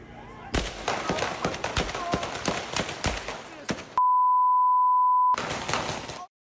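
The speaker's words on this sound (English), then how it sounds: "You just heard some of the gunshots as police shot and killed the West 6th Street shooting suspect." A rapid string of sharp, loud gunshots fired by police, captured on a cell phone, cracks out in irregular bursts before a steady censoring beep cuts in, then more noisy bangs follow.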